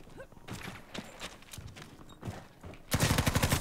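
Type 100 submachine gun firing in Battlefield 5, a rapid, even burst of shots near the end, preceded by scattered distant gunfire and footsteps.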